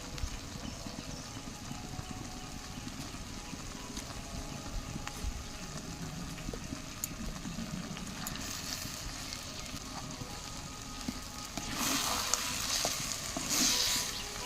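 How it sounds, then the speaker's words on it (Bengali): Unripe jackfruit and mango with kasundi mustard sauce are sautéed and stirred in a pan, making a faint, continuous sizzle that grows a little louder and brighter near the end, with no talking over it. "আবারও কিছুক্ষণ কষিয়ে নেব এইভাবে"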